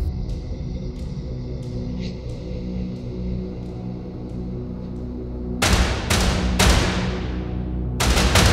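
A hunting rifle, a .300, fires at a springbok ewe in grassland in North West South Africa: several sharp, loud shots crack in quick succession near the end, after a quiet stretch of faint birdsong.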